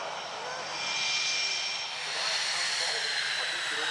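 A RAAF F/A-18A Hornet jet at a night airshow at Avalon, its engine a loud, steady roaring hiss that swells slightly midway, heard from a distance.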